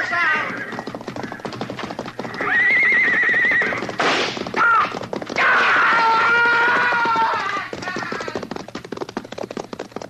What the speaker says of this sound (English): Look, he's trying to ride the horse out.